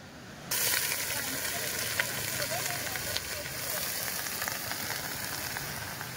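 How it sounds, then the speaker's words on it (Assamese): An outdoor picnic cooking fire with pork nearby burns with a steady, close crackling hiss that runs without a break, under faint background talk. "কিন্তু ফাইনেলি আমাৰ জুই জ্বলিব ধৰিছে"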